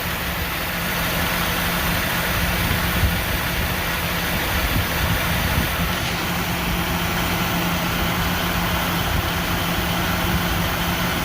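A 1988 Jeep Wrangler YJ 4.2L engine idles steadily at about 780 RPM at close range, a constant low rumble with a faint whine, no voices.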